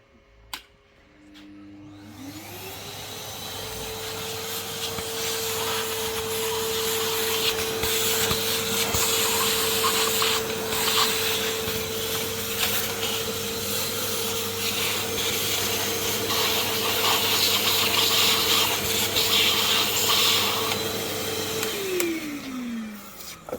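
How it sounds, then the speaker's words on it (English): A vacuum cleaner sucks dust out of freshly drilled holes in concrete, a steady close whine that spins up after a sharp click, holds loud and even for about twenty seconds, then winds down, with no talk. "vacuum out these holes and set a couple of through bolts"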